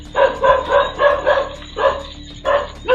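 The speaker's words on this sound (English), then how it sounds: "A quiet night in Indonesia took a strange turn when a man's dog wouldn't stop barking at nothing." A dog barks repeatedly at night in Indonesia, a steady run of loud, close barks in quick rhythm with a brief pause before the barking resumes.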